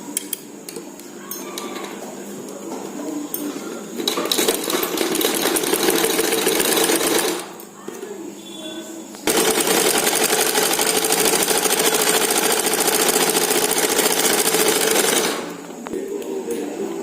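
Sewing machine stitching the lining into a double katori blouse, a fast steady whirring run that pauses briefly and then resumes in longer bursts, close and loud.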